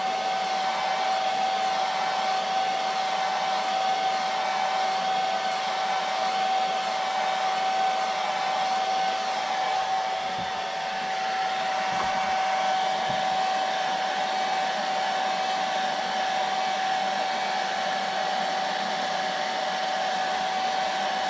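Hair dryer drying freshly airbrushed paint on a jerkbait fishing lure, a steady loud whirring blow with a constant high whine running unbroken for about twenty seconds, close by with no talking.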